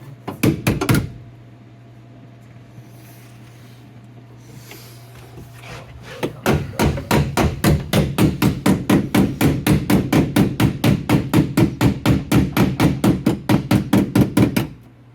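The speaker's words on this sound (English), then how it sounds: "Oh, it's the little hammer." A brief flurry of taps, a pause, then a long run of rapid, steady blows from a small hammer, close and loud, striking at an even quick rhythm while building a Subaru drift car's clutch master cylinder.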